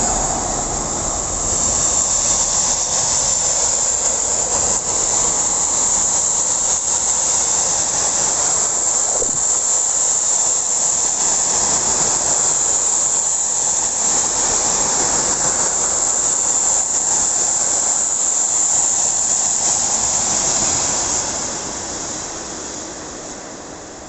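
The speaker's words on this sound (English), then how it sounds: "It's a farewell train right on time." A fuel train rolls past in a steady, broad rumble and hiss of wheels and wagons that holds loud and even for most of its length, then fades as the last cars move away.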